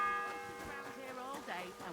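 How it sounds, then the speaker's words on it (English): A church bell tolls inside the medieval world of Kingdom Come: Deliverance II, its long ringing partials humming steadily through the scene under a voice speaking. "The first bell."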